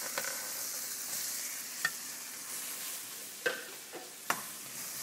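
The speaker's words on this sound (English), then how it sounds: "add your onion and let that saute for about 30 seconds to 45 seconds" Onions and peppers sauté in a hot pan with a steady, close sizzle. A few sharp clacks of a utensil turning the vegetables punctuate it.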